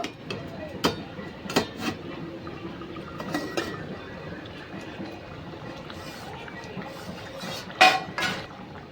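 A metal plate used as a lid is lifted off a pot of simmering potol and potato curry, giving a few sharp clinks and clatters amid faint cooking noise and soft talk.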